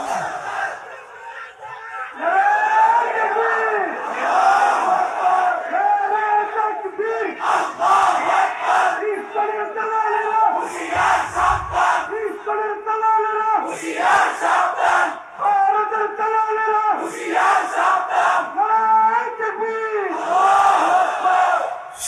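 A large crowd shouts back in unison to a preacher's call at a religious gathering, repeated loud chanted responses rising and falling in waves, several bursts across the stretch.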